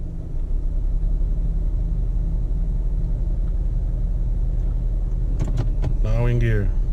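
A car engine idles in park with the air conditioning running, giving a steady low rumble throughout, and a voice speaks briefly near the end.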